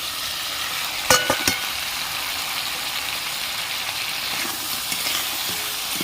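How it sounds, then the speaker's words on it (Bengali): Fried crabs added to oil and spice paste for a Bengali crab curry sizzle steadily, with a few sharp clatters and stirring knocks near the start over a constant hiss. "মশলা থেকে ভালো মতন তেল ছেড়ে দিয়েছে ভালো করে কষানো হয়ে গেছে ভেজে রাখা কাঁকড়াগুলো দিয়ে দিচ্ছি"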